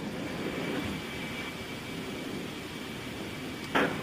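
Engines of a military transport plane at an Army airfield roar steadily during takeoff, a loud, even broadband drone with a brief burst of noise near the end.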